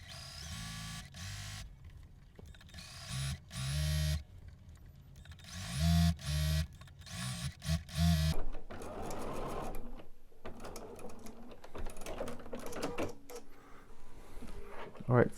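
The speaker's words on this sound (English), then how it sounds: "And let's sew." A sewing machine runs in several short bursts as quilt pieces for a star block are stitched, with pauses between runs and someone talking in between.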